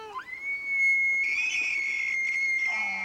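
An elk call: a high, piercing whistle-like sound slides up and holds steadily for nearly three seconds before dropping to a lower note, loud and alone.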